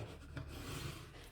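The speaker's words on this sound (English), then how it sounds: "I'm just going to go in with my bone folder" A bone folder rubs steadily across overlapped paper on a handmade bee house mini craft album, a soft, continuous scraping close by with no speech.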